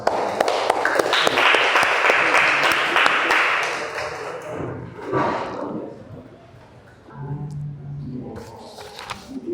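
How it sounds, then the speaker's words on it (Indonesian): A classroom group claps and cheers after a presentation, with a dense burst of applause that fades over several seconds, followed by lighter scattered clapping and some voices. "Kasih aplaus."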